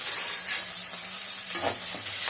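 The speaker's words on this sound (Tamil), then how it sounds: "சின்ன வெங்காயம் போட்டு கொஞ்சம் நல்லா வதக்கணும்." Small onions fry in hot oil for a prawn curry, a close, even sizzling hiss with a brief stirring scrape near the middle.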